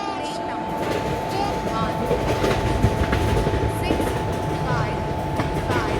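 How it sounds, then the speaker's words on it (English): Superfast express train rolling through a station in an Indian railway video game, a loud continuous rumble with rhythmic clickety-clack and a steady tonal hum, with speech faintly present. "Shatabrati Superfast Express is arriving at platform number 4"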